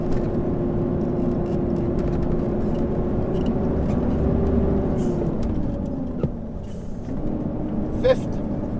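A Volvo truck engine drones steadily from the cab, its pitch dipping and then settling as the driver shifts into fifth gear, with a brief air hiss and clicks near the end.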